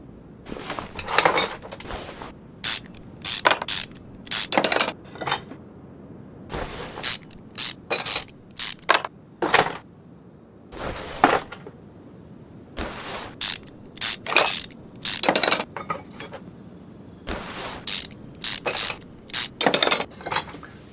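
Rusty engine bolts being removed during a Willys flathead engine teardown in Car Mechanic Simulator 21, heard as a steady run of quick ratcheting clicks and metallic clinks in short bursts, close and clear with no talking.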